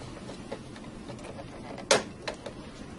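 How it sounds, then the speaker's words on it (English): A single sharp mechanical click as the red button on a CES key interlock for a Series NRX breaker is pressed and the key turned, with a few softer clicks after it in a quiet room. "press the red button down while rotating the key counterclockwise"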